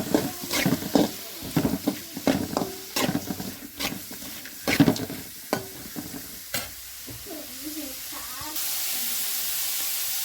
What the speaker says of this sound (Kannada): ಈಗ ನೆಕ್ಸ್ಟ್ ಈರುಳ್ಳಿ ಮತ್ತು ಕ್ಯಾಪ್ಸಿಕಮ್ ಹಾಕಿ ಸ್ವಲ್ಪ ಹಾಗೆ ಫ್ರೈ ಮಾಡಬೇಕು